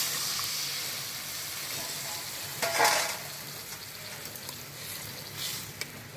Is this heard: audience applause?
no